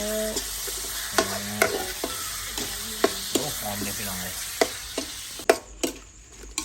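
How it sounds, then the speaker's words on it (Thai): Frog stir-fried with holy basil in a pan: a steady sizzle under repeated sharp clacks and scrapes of a spatula tossing the food, with a person speaking briefly near the end. "ผัดกะเพรากบเรียบร้อยแล้วจ้าพร้อมเสิร์ฟ"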